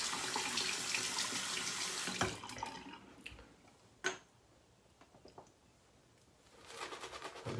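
Water runs from a tap with a steady splashing hiss while rinsing a razor between shaving passes, then cuts off, leaving a few sharp clinks and knocks before the flow returns.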